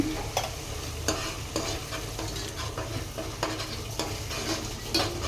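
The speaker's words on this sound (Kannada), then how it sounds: "ಈಗ ಚೆನ್ನಾಗಿ ಫ್ರೈ ಆಗಕತ್ತೈತೆ." Kaju paneer masala sizzles in a pan while a spoon stirs it, steady frying hiss broken by regular scraping strokes close up, no talking.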